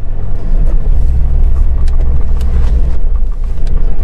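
A Honda Integra engine revs in neutral, a loud, close, continuous throaty rumble that holds steady throughout with no voices.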